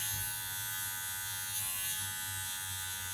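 Electric hair clippers buzz steadily and close during a fade haircut, the blade opened all the way with the guard removed, a constant motor hum with no talk.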